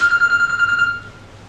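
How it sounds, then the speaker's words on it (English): Electronic phone ringtone with a bright sustained tone and harmonics, repeating briefly and loud before cutting off after about a second. "It was a phone."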